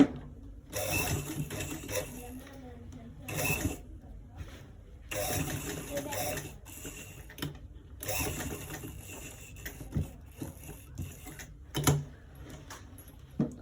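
Sewing machine stitching a circle design onto a shirt, running in bursts of steady rapid whirring separated by short pauses, close and moderately loud.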